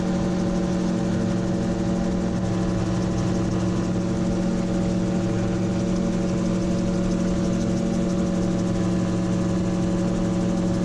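Gyrocopter engine running at steady high power for a go-around, a loud continuous droning hum with strong tonal harmonics and wind-like rush, no pauses or voices.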